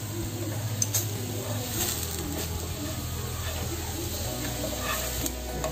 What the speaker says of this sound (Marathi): आता आपण परतून दुसऱ्या बाजूने भाजून घेऊया